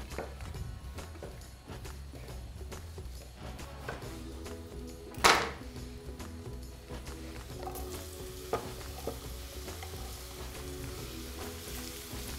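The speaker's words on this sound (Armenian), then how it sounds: "Խճողակի համար տապակելու եմ սունգ։" Portobello mushrooms frying in butter in a pan, a quiet continuous sizzle with stirring scrapes, one sharp clatter midway and a few later knocks of utensils.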